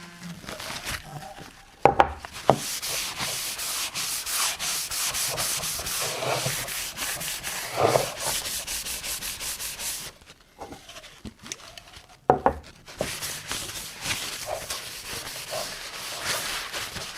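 Steady rhythmic rasping of sandpaper rubbing on wood, continuous strokes broken by a couple of short pauses and a few knocks, close and fairly loud.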